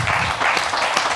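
Audience applause at the end of a session at an audio show, a short wash of continuous clapping from a crowd with a low murmur underneath.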